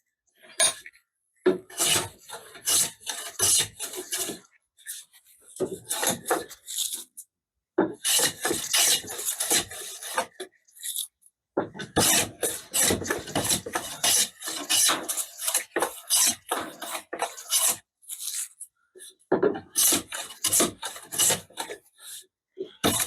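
Wood is sanded by hand in a vise, with repeated rasping strokes in uneven bursts separated by short pauses, close and fairly loud.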